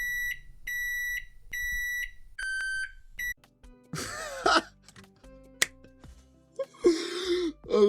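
Several sharp electronic beeps ring out in a steady run, each a pure high-pitched tone. Clicks, snaps and short vocal noises follow in a quiet room.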